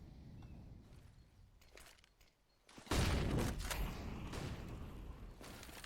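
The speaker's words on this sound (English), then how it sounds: "forZe do take a little bit of damage from the nades and mollies" Grenade and molotov blasts from a Counter-Strike: Global Offensive tournament match, a sudden loud burst of booming, crackling explosion noise that erupts partway through and lingers as a dense, sustained roar after quieter game ambience.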